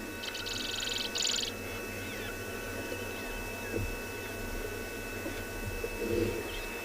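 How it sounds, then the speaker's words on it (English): Sunrise on safari, with birds chirping in brief bursts near the start and again later over a steady low hum and faint outdoor ambience, with no one speaking. "The birds chirping."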